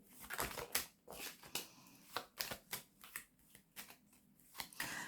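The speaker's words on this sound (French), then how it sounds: "je vais recouvrir 2-3 cartes" Tarot cards are handled and turned over at close range, giving a run of soft papery flicks, slaps and shuffling rustles in an uneven rhythm.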